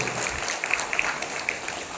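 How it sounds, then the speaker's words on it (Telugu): An audience claps along during a devotional song performance, a steady wash of many hands clapping together with faint tonal traces of the music beneath. "మీరు చప్పట్లు కొడితే పాడతాను"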